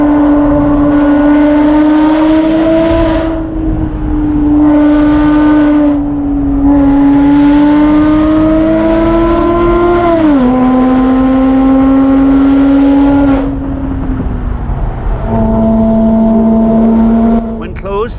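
Valved exhaust on a Porsche Boxster S opened up, revving hard in long rising and falling sweeps with a loud, raspy race-car scream, dropping briefly between pulls and settling to a steadier drone near the end.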